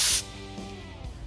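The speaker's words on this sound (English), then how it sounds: "when we spray the glue on this panel, I'm gonna try not to get any on the foam" Glue sprayed onto an upholstery panel during a Buick Regal interior build, a short loud hissing burst lasting a fraction of a second, then quieter workshop background.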